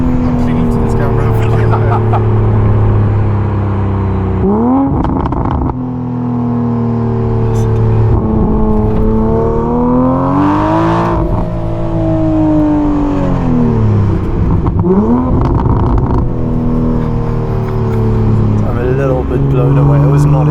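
A 770hp widebody Toyota Supra's engine burbles loudly and close, with a deep, rumbling idle that swells into revs and falls back several times, while people talk over it.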